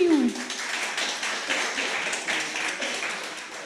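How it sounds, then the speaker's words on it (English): An audience at a builders' meetup in Paris claps for a developer taking the stage, a steady crowd applause of many hands, fairly even in level and tapering slightly toward the end. "give applause"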